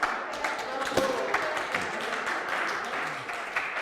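A church audience claps for Luca at a Sunday service, a brief burst of scattered clapping from a modest crowd mixed with voices in the room.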